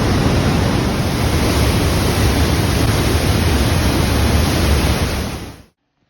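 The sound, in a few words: Trümmelbach Falls waterfall in Switzerland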